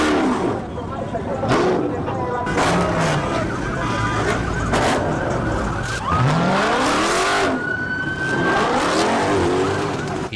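A car under full throttle drifts around corners while fleeing police, its engine roaring loud and continuous alongside repeated tire squeals and wailing sirens, with talk over the top throughout.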